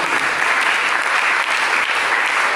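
A church congregation claps together in a dense, even roar of many hands, loud and sustained throughout without any voices on top.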